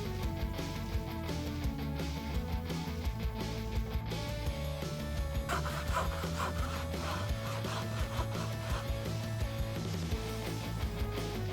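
A hand saw works through a piece of wood in continuous rasping strokes, close and steady, over a dense layer of background music.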